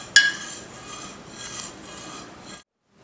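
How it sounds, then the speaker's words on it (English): Peppermint oil stirred into a batch of homemade lip balm, a steady scraping rub of utensil against container with one sharp clink at the start, close and moderately quiet, continuing for a few seconds before stopping. "Next, stir in the peppermint oil very well."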